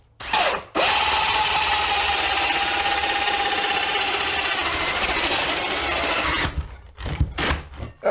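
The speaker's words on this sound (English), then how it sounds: "we're going to start drilling" A power drill whines loudly and continuously for several seconds as it bores into wood while installing recessed lighting, then stops, followed by a few short bursts of rattling.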